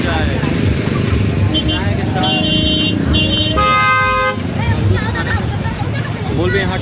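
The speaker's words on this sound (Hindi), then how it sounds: "यहाँ ट्रैफिक पूरा जाम है" Congested road traffic during a Kaawad Yatra pilgrimage, with repeated vehicle horns honking in short bursts over engine rumble and a background babble of voices.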